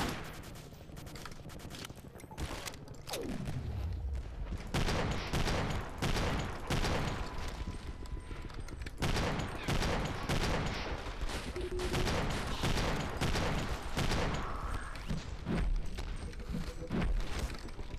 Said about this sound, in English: that's the sound of it revving up its machine gun